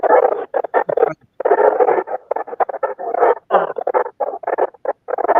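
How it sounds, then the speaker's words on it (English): A puppy at a rescue shelter yips, whines and yelps in quick, close bursts, the squeaky high-pitched cries chattering on almost without pause. "That puppy came in all by herself, Mako"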